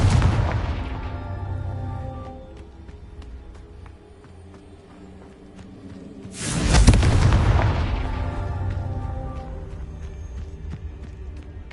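Confringo, an explosive spell cast in the video game Hogwarts Legacy, gives a burst at the start that fades, then a loud, deep booming blast midway that rolls off slowly over several seconds.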